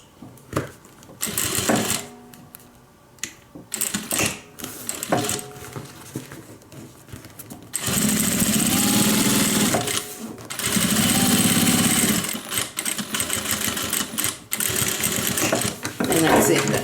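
Sewing machine stitching a fabric panel for a homemade airliner cabin bag at a larger stitch length, running in bursts of steady whirring chatter, loud and close, with a person talking in the pauses between runs.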